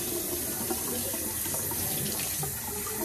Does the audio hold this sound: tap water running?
yes